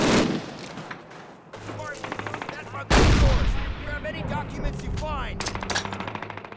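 Rapid machine gun bursts rattle through a Call of Duty battle, loud and close with heavy booms, continuous gunfire over several seconds while someone talks over the shooting.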